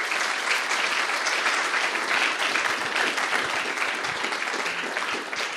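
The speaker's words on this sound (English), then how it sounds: "Give a nice round of applause to Adam, everybody." An audience at a live talk event at the Danube Institute gives sustained applause, a dense even patter of many hands clapping, moderately loud and with no talk over it.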